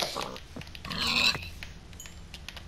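Pig grunts from the Imperio Lynx video game, a few short snorting calls with a louder burst in the middle, heard close and clear over faint background game sounds.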